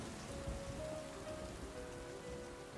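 Rain falls steadily, a dense, even patter on surfaces that stays constant throughout, soft and diffuse with no voices over it.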